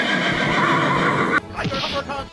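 A horse whinnies loudly as a sound effect over a UFC fight highlight, a sustained neigh that breaks off abruptly, followed by brief fainter clatter.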